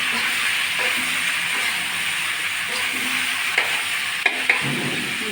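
Whole garlic cloves hiss in an oiled kadai with a steady, even sizzle, and a few light utensil clicks come near the end.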